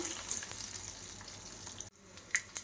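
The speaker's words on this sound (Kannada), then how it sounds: "ಸಿಪ್ಪೆ ಬಿಡಿಸಿ ಬೆಳ್ಳುಳ್ಳಿನ ಜಜ್ಕೊಂಡಿರೋಂಥ ಬೆಳ್ಳುಳ್ಳಿನ ಹಾಕ್ಕೊಳ್ತಾ ಇದ್ದೀನಿ. ಬೆಳ್ಳುಳ್ಳಿ ಸ್ವಲ್ಪ ಫ್ರೈ ಆದಮೇಲೆ ಈರುಳ್ಳಿ ಹಾಕ್ಕೊಳ್ಳೋಣ." Peeled, crushed garlic fries in a pan with a steady close sizzle, broken by a brief gap and followed by a few sharp crackles and pops.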